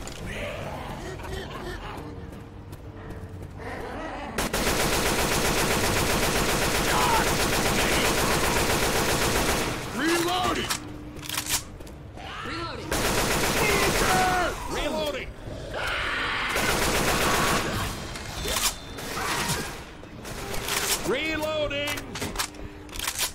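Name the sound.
gunfire in the video game Left 4 Dead 2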